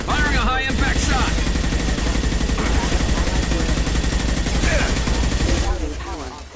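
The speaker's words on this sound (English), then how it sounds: "Firing a high-impact shot." Dense, continuous gunfire from the Mass Effect 2 video game, heavy and loud throughout with bursts of rapid shots over a low rumble, fading slightly at the end.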